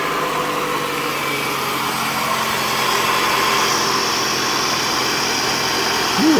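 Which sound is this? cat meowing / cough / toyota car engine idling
toyota car engine idling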